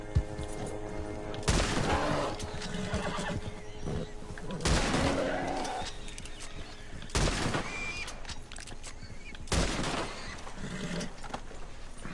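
Four loud rifle shots fired at a bear in Red Dead Redemption 2, spaced a few seconds apart, each a sharp crack with a short tail, over a continuous outdoor ambience with a horse's whinny and faint voices.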